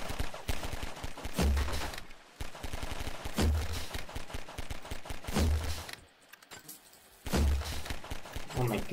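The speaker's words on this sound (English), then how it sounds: "What are we shooting? I'm just shooting at stuff." Rapid gunfire in Garry's Mod, repeated bursts of shots crackling in clusters with brief pauses between them, fairly close, with people talking over the shooting.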